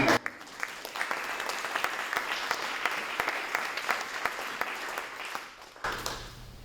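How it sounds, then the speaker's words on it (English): A crowd at a food co-op annual meeting claps together in a dense patter of applause that holds steady, then fades and briefly swells again near the end. "So not just a round of applause."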